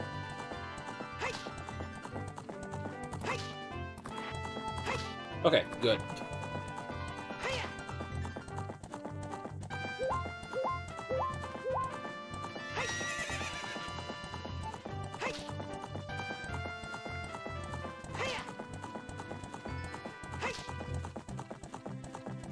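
Hooves clip-clop steadily over busy game music in The Legend of Zelda: Ocarina of Time, with a horse's whinny breaking through partway and someone speaking briefly.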